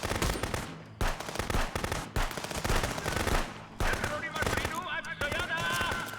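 Rapid gunfire rattles in Contraband Police, loud close bursts of automatic shots broken by brief pauses, with someone talking over the shooting.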